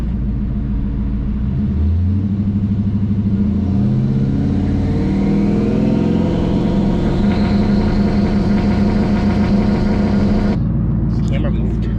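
A twin-turbo Ford Mustang engine revs and holds against the trans brake, a loud close steady drone rising in pitch before cutting off abruptly near the end, with people talking over it.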